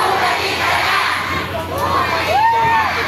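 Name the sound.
crowd shouting and cheering at a rally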